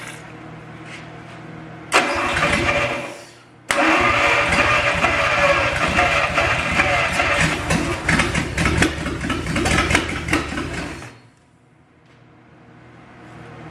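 A 1955 Dodge Hemi 270 engine, freshly fuelled, fires and dies within two seconds, then restarts. It runs loud and rough nearby for about seven seconds before cutting out, leaving faint background noise.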